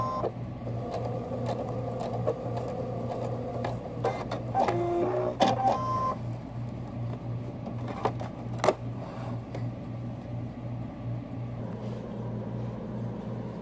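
A sewing machine backstitches at the end of a seam on a flannel burp cloth, humming low and steady close by, with scattered clicks and brief higher whirs in the middle and no talking.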